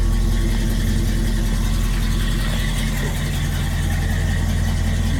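A 1966 Buick Skylark engine runs at a steady, loud idle with a low rumbling throb, close by, continuing evenly throughout.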